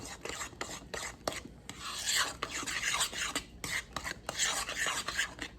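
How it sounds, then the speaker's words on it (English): Mashed banana being stirred into banana bread batter for a vintage 1950s Hawaiian recipe, a steady run of wet scraping and rubbing strokes in a bowl, close and moderately loud with no talking. "we're just going to stir that mashed banana in"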